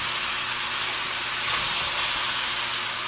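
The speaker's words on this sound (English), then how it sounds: "now I'm stir frying it all in together" Steady, loud broadband sizzle of food frying in a hot pan, continuous and close with no voices.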